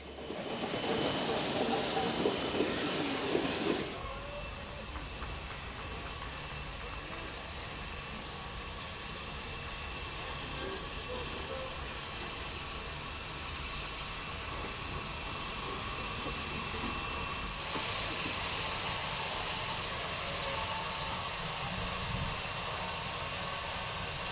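A steam locomotive hisses steadily as the train reverses into the terminus station at Tours, a loud burst of steam at the start settling into a continuous broad hiss with a slight swell near the end.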